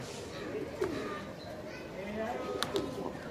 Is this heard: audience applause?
no